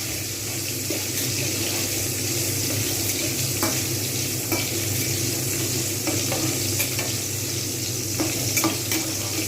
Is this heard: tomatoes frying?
yes